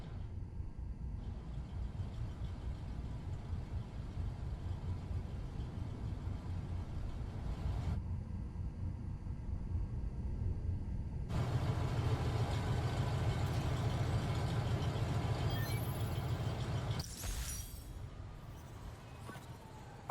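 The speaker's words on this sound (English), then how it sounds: "Sounds like the engine." A deep engine rumble in the game Marvel's Spider-Man: Miles Morales drones on at a station, shifting in tone, swelling heavier and louder past the midpoint before easing off near the end, with no voices.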